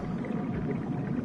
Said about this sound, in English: I heard a whale!